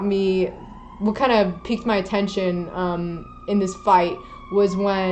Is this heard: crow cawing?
no